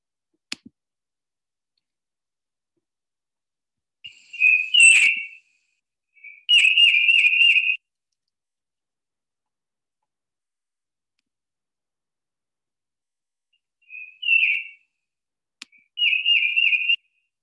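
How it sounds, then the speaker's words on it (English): A tufted titmouse sings short, clear whistled phrases in four separate bursts, each lasting about a second, with long silent gaps between them and a couple of faint clicks. "This is the tufted titmouse, a really common one that you hear outside your window."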